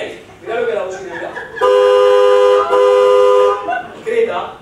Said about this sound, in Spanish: ¿La bocina la escuchaste?